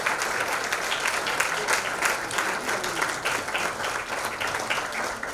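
Sustained applause from an audience at an award ceremony for nursing and paramedical institutes, dense steady clapping filling the whole stretch without pause or speech.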